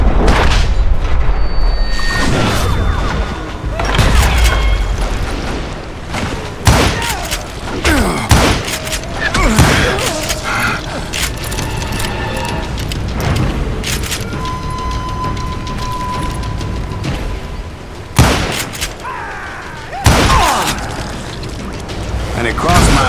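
Gunfire in the Western shooter Call of Juarez: Gunslinger, with a dense run of sharp booming shots and thuds spread across the span, loud and close amid game noise and narration.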